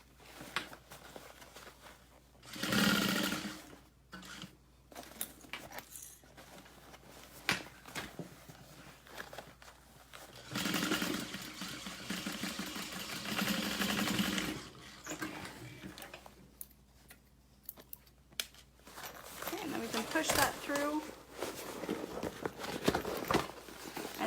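A sewing machine stitches the bottom of an all-vinyl tote bag in uneven bursts, rapid mechanical chattering runs that start and stop with short pauses and shuffling handling between them, close and moderately loud.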